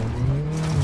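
A rally car in the WRC7 racing game at Rally Italy revs hard with a steady, loud engine drone as it accelerates and slides on the track.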